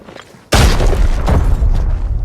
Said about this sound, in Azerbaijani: bomba atıram